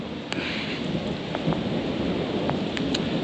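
Heavy torrential rain pours steadily onto newly seeded lawn in a dense, continuous hiss, with a few sharper drips and splashes standing out nearby.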